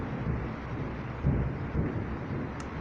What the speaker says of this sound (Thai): โอ้ยฟ้าร้องนะครับฟ้าร้องนะครับ